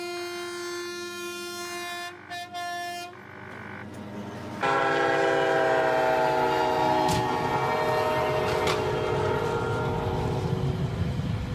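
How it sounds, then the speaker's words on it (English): An old smoking train blows sustained multi-tone horn blasts, then rolls through city traffic with a loud continuous rumble and clatter close by, with no talk. "A smoking train rolls through city traffic, cars stop, the old giant passes."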